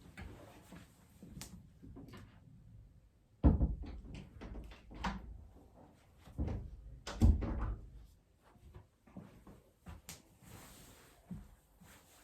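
A door blown open by the wind is pushed shut, with a series of knocks, thuds and handling clatter close by, the loudest thumps falling mid-way, in a quiet room without talk.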